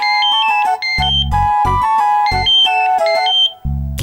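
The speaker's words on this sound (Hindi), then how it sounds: "अब प्रेम, जरा फोन देख लीजिए ना, मेरे हाथ में बेसन लगा है ना।" A melodic electronic ringtone plays loud and close, a repeating tune of bright tones with deep thumping notes beneath it.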